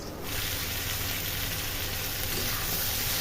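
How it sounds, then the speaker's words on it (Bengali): Fish fries in hot oil with a loud, continuous close sizzle and hiss that stays steady throughout, with no voices over it. "চলুন তাহলে মাছটা ভেজে নিই"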